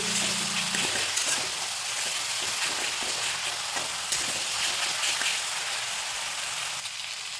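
Spice masala sizzles and hisses steadily in a pan with a little water as it is sautéed, a close, continuous frying crackle with occasional stirring scrapes.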